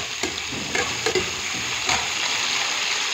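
Cauliflower pieces frying in very hot oil, a dense, steady sizzle with a few sharp clatters of a spoon stirring the pan, close up and with no voices.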